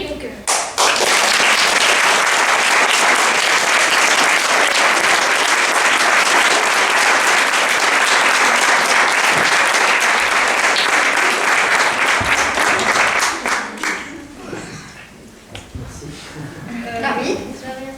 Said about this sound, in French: je souhaitais applaudir M. Minikino